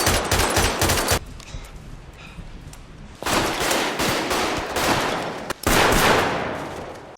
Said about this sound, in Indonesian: segera melepaskan tembakan secara membabi buta